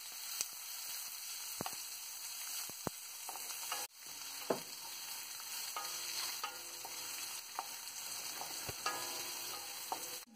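Onion sizzles steadily in a pan of hot oil with urad dal while cooking a green apple sabji, a continuous close crackling hiss broken by occasional stirring scrapes.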